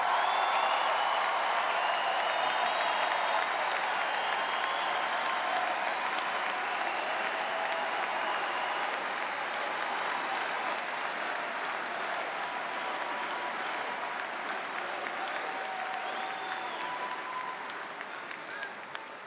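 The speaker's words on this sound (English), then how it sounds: "it is so nice to hear you cheering for what I just said." Convention audience at the Republican National Convention cheering and applauding, a dense, sustained wash of clapping and shouts from a large crowd that fades slightly toward the end.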